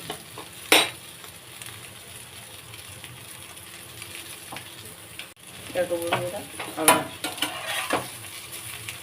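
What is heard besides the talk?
eggs and eggplant frying in oil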